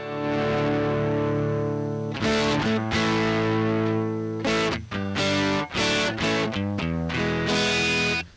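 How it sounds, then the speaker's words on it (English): Overdriven tube amp sent straight from the power amp into an audio interface with no speaker simulation, giving a harsh, fizzy electric guitar tone with a ringing chord, then choppy bursts and stabs that start and stop abruptly. "So right now this is my amp going straight into the interface"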